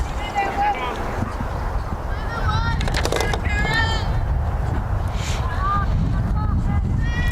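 Wind buffets the microphone outdoors at a high school softball game, a steady low rumble through the whole stretch, with a crowd chattering and people talking over it.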